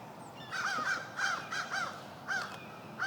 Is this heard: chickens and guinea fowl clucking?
no